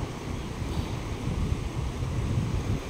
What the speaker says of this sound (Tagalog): Ang lakas ng baha, no? Grabe yung baha dito.